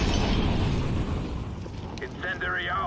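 An incendiary grenade in the Counter-Strike match on Inferno bursts into a loud, rushing roar of flame that fades over a few seconds.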